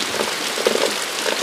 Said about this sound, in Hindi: इतना ज़बरदस्त बारिश होने लगा ना कि हम लोग एकदम टका गए